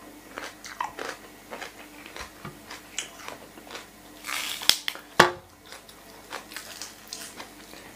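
Crunchy chewing of spicy squid larb with fresh greens, a series of close, quiet crisp bites and crunches in an irregular rhythm, with no talking.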